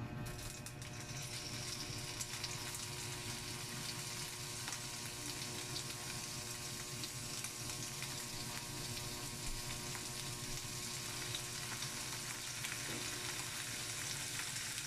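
Marinated pork loin frying in oil in a pan, giving a steady, close, crackling sizzle that holds evenly throughout without speech.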